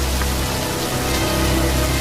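Steady rain falling outdoors, a dense, even hiss of drops on surfaces with no break across the two seconds and no voices over it.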